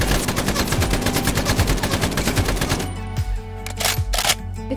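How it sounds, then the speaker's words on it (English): A Soviet PK machine gun firing in Fallout 4 makes a loud, rapid sustained burst of automatic gunfire for about three seconds, then a few separate single shots ring out with decaying echoes. "The Pykai is a machine gun of Soviet origin."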